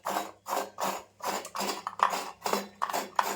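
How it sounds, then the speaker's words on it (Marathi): Fresh coconut scraped by hand on a traditional grater, heard as a steady series of rhythmic, close rasping strokes, about eight of them, each a short scratchy burst with brief pauses between, with no talking. "असं मी नारळ हा किसून घेते."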